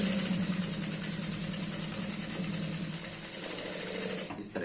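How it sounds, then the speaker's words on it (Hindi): Close, continuous whirring of a sewing machine stitching a loop seam on a girl's skirt, running steadily alone and stopping near the end. "हम यहाँ पर एक लब की सिलाई लगाएंगे इस तरह से"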